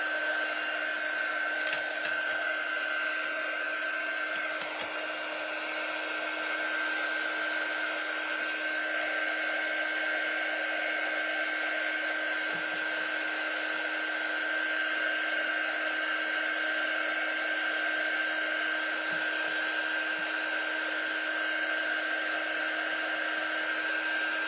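Steady hair dryer blowing continuously to dry a paper craft project, a constant whirring motor hum with airy rush that holds at an even level throughout, with no voices.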